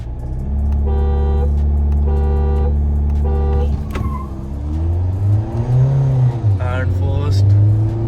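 A Mahindra XUV700 and an Audi A4 launch side by side in a drag race. A loud, steady engine hum at the line gives way to a rising, revving acceleration as the cars pull away, with voices over the engines.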